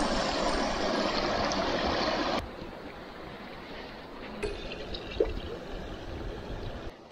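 Mountain stream in the Alps rushing over rocks, a loud, continuous watery hiss that drops to a quieter, steadier flow partway through, with a brief knock near the end and no talking.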